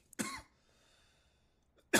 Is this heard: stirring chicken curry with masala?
no